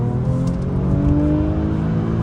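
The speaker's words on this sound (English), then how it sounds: "This exhaust sounds so good." A Mercedes-Benz exhaust revs hard under acceleration on a late-night road in Toronto, a loud, rising engine note that holds steadily close by with no talk.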